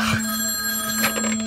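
A telephone rings as a podcast sound effect, a steady electronic trilling bell that is loud and close and heard alone.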